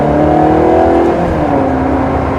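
Ferrari 360 Challenge Stradale engine revving loud and close, with a quick drop in pitch through a gear shift in race mode on a road with traffic.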